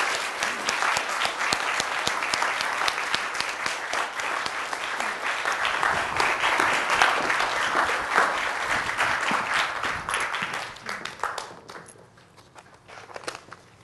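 Sustained audience applause greeting fiction writer Sarah Mkhonza at a Cornell University event, steady dense clapping from a sizeable crowd that fades out near the end.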